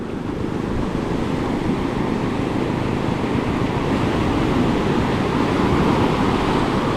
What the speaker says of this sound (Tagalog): Lakas ang agos.